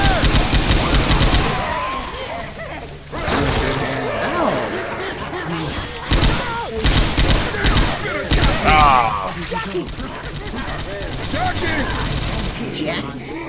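Rapid gunfire rattles in dense bursts as a player shoots a zombie in Left 4 Dead 2, the shots loud and close, with players talking and exclaiming throughout.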